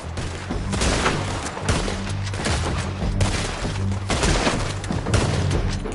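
Dense, sustained gunfire in the video game Red Dead Redemption 2: overlapping rapid shots and booms form a loud, continuous fusillade with no pauses across the whole stretch.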